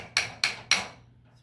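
Three sharp taps of a toy hammer striking a chisel from a plastic dig kit, evenly spaced about a quarter second apart, close and fairly light, each with a brief ringing decay and no talking.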